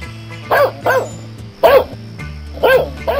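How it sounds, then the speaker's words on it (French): A hungry dog barks in repeated short bursts, about five sharp barks spaced roughly half a second apart, close and fairly loud over a low steady background drone. "Un chien, qu'est-ce qu'il veut? Ah, il doit avoir faim."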